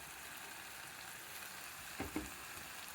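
Tamarind pulp goes into a pan of simmering colocasia and tomato curry, which keeps up a low, even sizzle, with two quick soft splashes and knocks near the end, quiet and close, with no talking.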